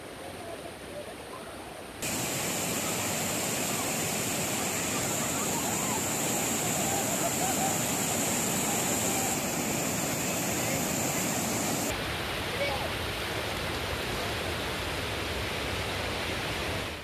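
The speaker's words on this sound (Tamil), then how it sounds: "இதிலிருந்து வெளியேறும் உபரி நீர் அருவி போல கொட்டுவதால்" Surplus water overflowing from a village lake pours down like a waterfall, a dense steady roar that swells in abruptly and rushes continuously, then shifts to a slightly different wash near the end.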